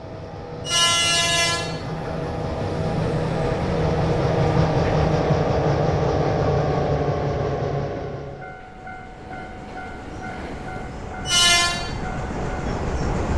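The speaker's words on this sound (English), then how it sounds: "This reskin was specifically based on the 1996 stock, which runs on the Jubilee line and makes an unusual noise." A London Underground 1996 stock train of the Jubilee line in the Unreal Engine 5 game Running Train rumbles steadily for about eight seconds, with two loud horn toots near the start and end and a whining electric motor tone.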